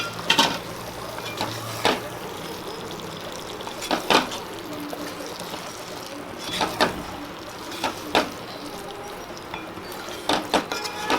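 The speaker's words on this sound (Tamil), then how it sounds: "முட்டையோட மசாலாவை நல்லா கிளறி விட்டுக்கோங்க." Eggs being stirred into tomato masala while frying for a simple egg roast, with intermittent scraping and clinking of a spoon in the pan over a continuous low sizzle.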